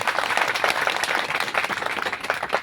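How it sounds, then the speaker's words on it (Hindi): Crowd applause at a large farmers' rally and sit-in protest, many hands clapping in a dense, steady patter at moderate distance, with no voices over it. "आप सभी से मैं निवेदन करूंगा कि एक बार जोरदार तालियां"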